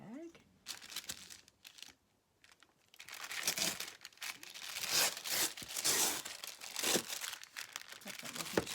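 Recycled paper bag being handled and crumpled for a craft junk journal project, loud crinkling and crunching bursts in repeated waves after a brief quiet gap, with occasional speech-like sounds between.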